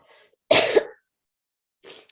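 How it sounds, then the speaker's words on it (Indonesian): A woman coughs and clears her throat during a religious lecture, one loud hacking burst followed by a softer, shorter cough after a pause of about a second, alone with no speech. "Udah batuk-batuk"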